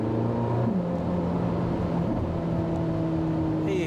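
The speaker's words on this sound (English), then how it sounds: "You hear that rev matching the exhaust note." A 2023 Chevrolet Corvette Z06 Convertible rev-matches on the road, its exhaust note a steady, droning engine hum heard from inside the car, with pitch shifting slightly as the revs adjust.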